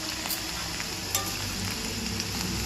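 Pieces of bitter gourd fry in hot oil in a pan with a dense, continuous sizzle, sprinkled with small sharp pops and crackles throughout.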